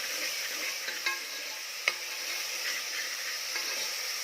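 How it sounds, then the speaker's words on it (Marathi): Onion sizzling steadily in a pan for a Kolhapuri mutton dish, with ginger garlic paste stirred in; a constant hiss of frying under occasional scrapes and a light metallic clink of the spoon. "कांदा भाजला की यामध्ये आलं लसूण पेस्ट घालायचे"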